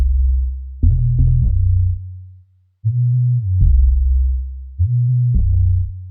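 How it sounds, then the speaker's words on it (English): A 90s house-style bass stab built from an organ stab shaped toward a sharper attack and layered with a sub bass with a long release, playing three loud, sustained stab hits with a deep low end and brief gaps between them. "I used the organ stab, but shaped it significantly to get more like the transient of the bass stab"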